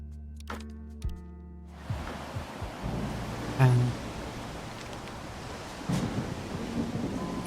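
Video game thunderstorm: a low rumbling roll of thunder swells in after a few sharp tones, followed by continuous steady rain-like noise with faint cracks, fairly loud and close.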